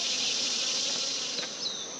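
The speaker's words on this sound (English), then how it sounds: "we're going to gently brush the bees off it" Honey bees buzzing on frames of spring honey during a harvest, a dense, steady close-up hum from many bees with no one talking.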